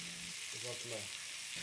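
Veal shoulder meat and root vegetables frying together in a pan, a steady close sizzle that runs the whole time, with a voice briefly audible underneath.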